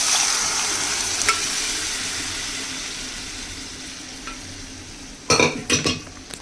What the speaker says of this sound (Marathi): ते झाल्यानंतर त्यामध्ये आपल्याला हे डाळ ओतायची